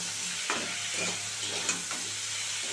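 Mixed vegetables for a Bengali data chorchori stalk curry fry steadily in a pan, a continuous sizzle with a few soft stirring scrapes, close and alone with no talk.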